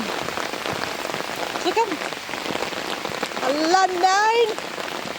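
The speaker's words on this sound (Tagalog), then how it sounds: "Lakas ng ulan." Heavy tropical rain pours steadily and loudly on a surface, a dense constant wash with voices talking over it and brief whistling or chirping tones near the end.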